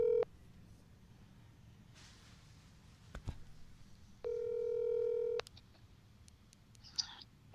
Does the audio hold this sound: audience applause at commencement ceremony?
no